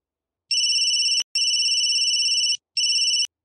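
A mobile phone ringtone inside the GTA video game shrills loudly in three electronic bursts, the second longest, with short gaps between them and no voices.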